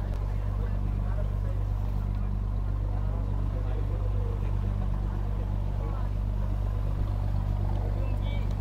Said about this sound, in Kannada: ಆದರೆ ಇದು ಬೋಟ್ ಅಲ್ಲ, ಫೆರಿ ರೈಡ್ ಇದು